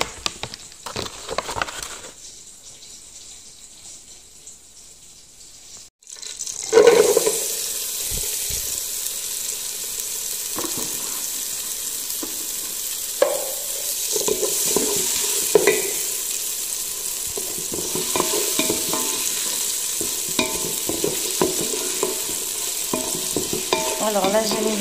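Butter and onions sizzle in a pot for spiced Comorian yellow rice and are stirred with scraping and clatter, after a quiet start and a sudden loud burst of frying.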